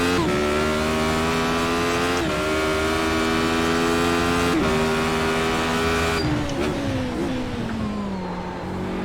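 Radical race car in the iRacing sim at Oulton Park, its engine droning loud and steady with harmonic bands that dip at gear changes near 2, 4.5 and 6 seconds, then fade as revs drop and the tires scrub.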